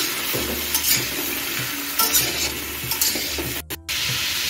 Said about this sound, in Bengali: এখন সব কিছু আমি 2 মিনিট ভেজে নিচ্ছি।